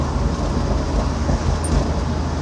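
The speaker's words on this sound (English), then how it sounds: "it makes this cool induction noise now" A car engine with its timing off idles with a steady rumbling, droning induction noise, close and continuous with no voices over it.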